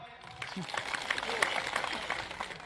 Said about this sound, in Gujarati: એકવાર જોરથી તાળીઓ પાડો.